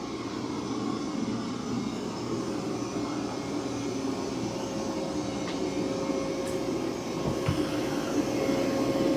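A Mova V50 robot vacuum running at maximum suction on carpet, giving a steady, moderately loud motor whir and airflow hum with a faint tonal whine that stays even throughout, no speech.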